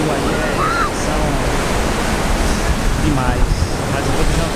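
Ocean surf rolls and breaks steadily along Pompano Beach on the Atlantic, a continuous broadband wash with wind buffeting the microphone and faint voices in the background.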